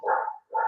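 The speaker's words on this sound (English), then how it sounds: "sorry if you hear a dog barking in the background" A dog barks twice in the background of an online class, two drawn-out barks separated by a short pause, fairly faint and alone with no talk over them.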